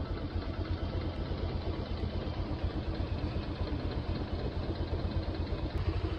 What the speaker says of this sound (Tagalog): At ito na po yung click na pinalitan ng ECU